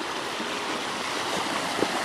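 A frosty riverside campsite river flows steadily a few meters away, its broadband rushing and babbling close and continuous with no voices.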